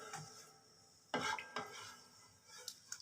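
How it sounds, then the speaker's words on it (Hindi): Saag being stirred and mixed in a pot, quiet spoon scrapes and knocks against the metal with a brief louder clatter partway through, over a faint background hiss. "इस तरह अच्छे से हम मिक्स करेंगे।"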